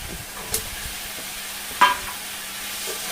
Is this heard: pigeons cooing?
no